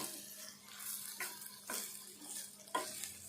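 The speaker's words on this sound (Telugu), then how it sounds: "ఇది కూడా పప్పుతోటి పాటు ఈ కారం కూడా వేగాలి." Dry red chili powder frying with moong dal in a pan, a soft sizzle with light scraping stir strokes repeating every half second or so, fairly quiet and close, with no talking.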